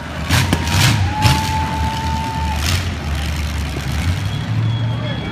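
Traffic rumbles steadily nearby as cars pass at an outdoor county 4-H demolition derby event, with engine drone and a brief high tone, and a voice faintly under the noise.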